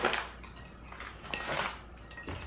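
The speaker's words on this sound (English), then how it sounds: "And we're going to stir it." A metal spoon stirs sugar into liquid in a glass, giving several light clinking, scraping bursts of utensil against glass, close and fairly quiet with no talking.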